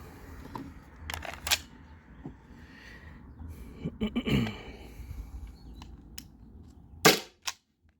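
A Byrna SD launcher fires on an 8-gram CO2 cartridge, giving a few sharp, sudden pops spaced seconds apart, the loudest near the end, against a quiet background with faint movement noise.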